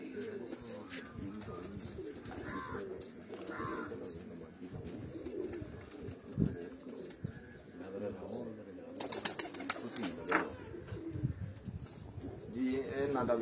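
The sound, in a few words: pigeons cooing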